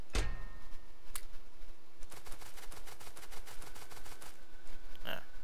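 Rapid bursts of video game gunfire from modded Yuoki Industries guns, a quick series of sharp repeated shots in a steady rhythm, moderately loud with a couple of isolated cracks before and after.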